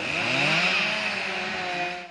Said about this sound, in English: Chainsaws have been hard at work in preparation for filling in Radley Lake.